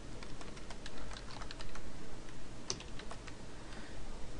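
Fast, steady typing on a computer keyboard to enter a folder name, close and fairly quiet, a continuous patter of light key clicks with one sharper tap near the middle and no voices.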